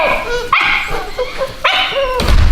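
A dog yips and barks indoors, two sharp close barks with whimpering, high-pitched whines between and after them, against a low background rumble.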